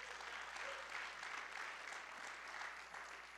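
A church congregation clapping, steady sustained applause from a crowd filling the whole stretch at an even level.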